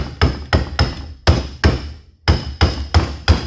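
Sharp, evenly spaced hammer blows tap a ball joint boot down onto the lower control arm of a 1968 Chevrolet C10 front suspension, about ten strikes in a steady rhythm with a short pause midway.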